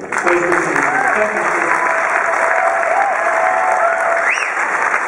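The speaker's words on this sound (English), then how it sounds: "Keep that applause going." A convention crowd applauds loudly and continuously at the close of a celebrity Q&A in Perth, thick clapping with scattered cheers and voices running through.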